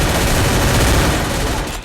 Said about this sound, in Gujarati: આ હાથમાં બોમ્બ ફૂટ્યો